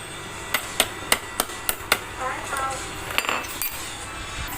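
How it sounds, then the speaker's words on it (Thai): Small, light hammer taps drive a part into an electric fan motor coil: about six quick, evenly spaced metallic knocks, then a few softer scattered taps close by. "เราก็ มีตอกไปนะครับ อย่าตอกแรงครับเพื่อนๆครับ"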